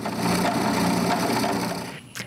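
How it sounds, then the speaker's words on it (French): Drill boring holes into a wooden nutcracker's arm for dowels and swords, a steady loud grinding whir for about two seconds that then cuts out, with a brief faint rasp after. "Je perce aussi les trous pour les épées."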